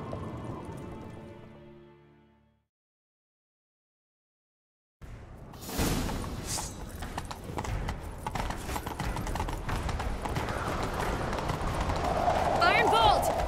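After a short silence, rapid hoofbeats from a horse in The Witcher 3 gallop steadily and grow louder, with a faint whinny near the end over busy game sound effects.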